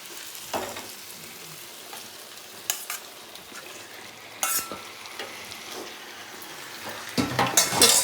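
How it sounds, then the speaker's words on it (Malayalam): Chicken for chicken dum biryani frying in a pan, a close crackling sizzle broken by several loud stirring scrapes and metal clinks. The last seconds grow busier and louder. "ഓക്കെ, ഇനി ചിക്കൻ ഇടാം."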